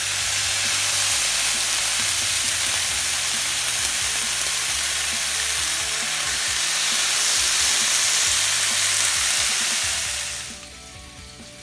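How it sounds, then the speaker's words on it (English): Three bacon strips frying in a pan give a loud, steady, close sizzle with a dense crackling hiss that runs unbroken before dropping off near the end. "First, we're going to cook the bacon"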